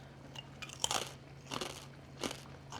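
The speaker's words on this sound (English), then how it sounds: "They are so incredibly crunchy." Crunchy pork chicharrones, Kroger Mercado brand, crunched in three separate sharp crackling bursts close to the mic, with quiet pauses and a faint steady hum between them.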